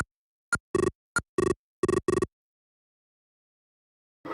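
Astrosmash on a 1983 Mattel Aquarius without its sound chip gives a few short, harsh electronic beeps and buzzy bursts in quick irregular succession, then near silence until a faint blip at the end.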